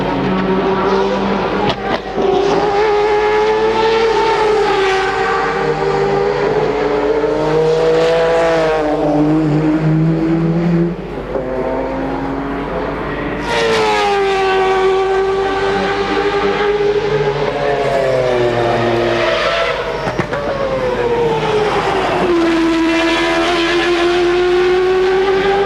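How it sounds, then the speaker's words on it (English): A loud rotary race car engine screams continuously, its pitch climbing and dropping through repeated revs and gear changes, close and dominant throughout. "Yes guys, this is a rotary engine."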